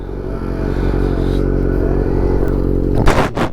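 A motorcycle being ridden hard, engine revving and pulling loudly and close throughout, with a clattering scrape and thump near the end as the bike crashes.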